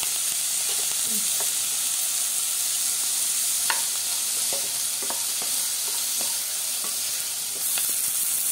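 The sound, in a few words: sautéing with salt in a pan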